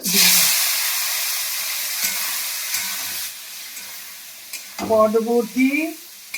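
Food sizzles steadily in a pan with chili powder, a loud, continuous close frying hiss, for a home-cooked Bengali meal of cabbage, prawns and potatoes. The sizzle eases midway, and someone speaks briefly near the end.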